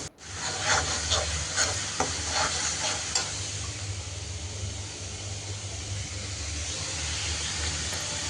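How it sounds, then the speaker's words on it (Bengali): Onions frying in a pan for a Bengali lau shak and hilsa fish curry meal, a steady close sizzle running throughout with a few stirring scrapes near the start. "তো পেঁয়াজ ভেজে নিচ্ছি"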